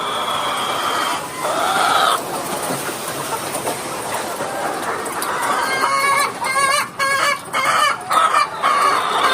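Growing chickens on a farm cluck and squawk noisily and continuously, with a rooster crowing in the mix and sharper bursts of calls toward the end.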